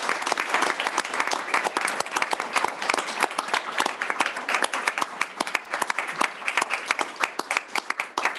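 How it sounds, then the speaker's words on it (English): Audience applause for students at a school board meeting, loud sustained clapping from a sizable crowd with crisp individual claps audible throughout, no talking over it. "a round of applause for all of those students as well"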